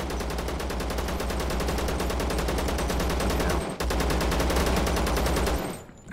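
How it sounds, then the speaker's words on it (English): Rapid, loud gunfire from the video game Zero Sievert, a dense automatic burst that runs almost continuously for about six seconds with a brief break partway through. "Ah, gunshot."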